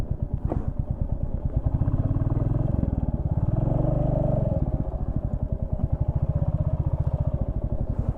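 Motorcycle ridden on a road near the Konark Sun Temple in Odisha, its engine putting out a steady pulsing chug that stays fairly loud and close throughout, with no talk.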